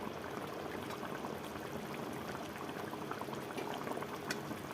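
A pot of tomatoes and green chillies boils on the stove, a continuous dense bubbling and gurgling heard close up at moderate volume, with no talking.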